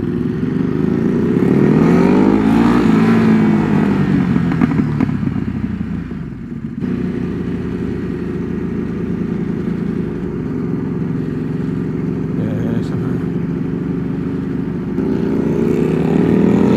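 Loud, raw exhaust roar from a Ducati Hypermotard 950 SP motorcycle riding at a steady speed, with pitch rising and falling as the throttle changes, then settling into a sustained drone before swelling again near the end.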